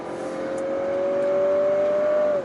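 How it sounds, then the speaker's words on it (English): A 2022 Lexus NX350's engine pulls under throttle as a steady, close drone whose pitch climbs smoothly and evenly throughout, with no talking over it. "I try to throttle more now."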